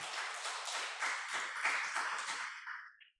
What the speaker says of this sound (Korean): 박수 한번 쳐줄까요?